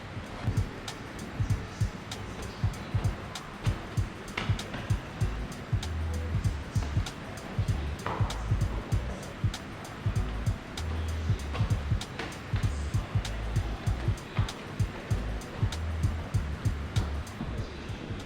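Rain falls outside in a steady, dense patter with many small drop hits, heard from indoors in a humid sheltered space. It runs continuously at moderate loudness, with a low rumble underneath.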